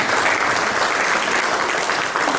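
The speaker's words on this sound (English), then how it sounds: "please give yourself an applause" Dense, steady applause from an audience at a village candidates night, loud and continuous throughout with no voices above it.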